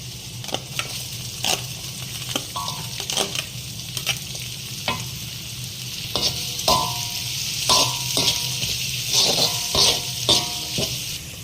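Onions sauté in oil in a pan for a spicy yam masala, a continuous sizzle broken by frequent close scrapes and clinks of a stirring spoon, with no talking.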